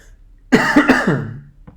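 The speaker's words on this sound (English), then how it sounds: "Excuse me, I think I have a cough." A single harsh cough burst, close and fairly loud, with a short throaty tail and a faint catch at the end.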